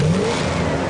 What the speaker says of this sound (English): Cars that sound like this.